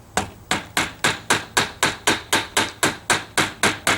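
Sixteen light, evenly spaced hammer taps on a guitar pick against the fret of a nylon-string acoustic-electric guitar ring out at a steady quick rhythm, close and crisp, with no voices.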